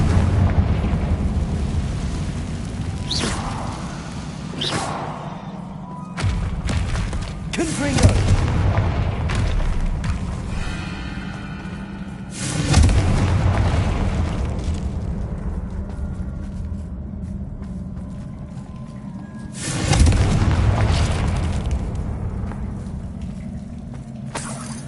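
Fire spell explosions from the video game Hogwarts Legacy, several loud booming blasts bursting out at intervals over game music and ambience, with a voice speaking around them.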